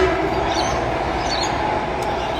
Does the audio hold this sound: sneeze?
no